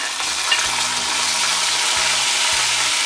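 Small onions fry in sesame oil for a Tamil vathal kuzhambu, giving a steady, close hiss of sizzling with a few low stirring knocks from a pan beneath it.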